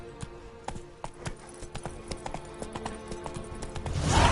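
Horse Roach galloping in The Witcher 3, hooves drumming in a steady quick clip-clop rhythm, close and clear, swelling into louder rushing noise at the end.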